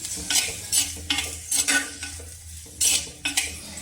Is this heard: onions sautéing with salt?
yes